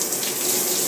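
Shower water sprays steadily at close range, a dense, even hiss of falling water with no pauses and no voices.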